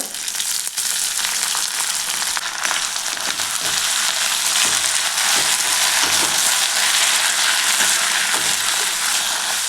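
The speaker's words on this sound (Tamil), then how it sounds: "நல்லா அந்த எண்ணெயிலே அந்த தழையும் நல்லா பொருளை வதங்கணும்." Leaves sautéing in oil for thuvaiyal chutney, a loud, close, dense crackling sizzle that runs continuously, with occasional stirring clicks and no voices.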